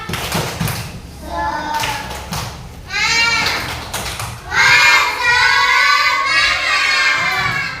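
A school class chants the tepuk semangat clapping routine together, rhythmic claps and taps under loud group shouting of children's voices that swells toward the end.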